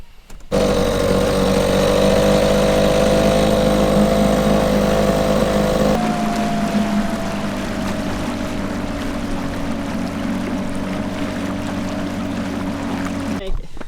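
A small dinghy motorboat running on Chesapeake Bay near Annapolis, its outboard engine droning steadily and loudly throughout, shifting to a lower, slightly calmer pitch partway through, with water and wind noise around it.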